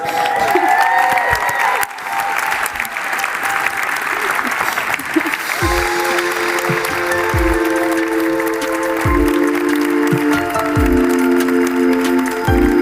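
Conference audience applauding at a WorldSkills closing plenary, sustained and loud throughout, with background music notes sounding underneath toward the end.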